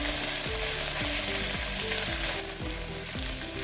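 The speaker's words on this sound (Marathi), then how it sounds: "थोडं परतून घेऊया, याचा कच्चा वास जाईपर्यंत." Ginger and green chili paste sizzles loudly and continuously in a hot pan with a bay leaf while cooking for Maharashtrian masala bhat, with music playing over it and no talking.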